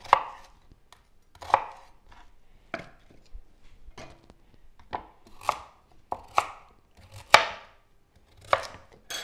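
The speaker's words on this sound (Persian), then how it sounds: "این میکسر کارش درسته، شما زیاد به این فکر نکنید که این نمیتونه خوردش بکنه" Onion, red bell pepper and carrot being chopped, about a dozen sharp, separate chopping hits spaced unevenly over a quiet background, close and fairly loud, with no voices.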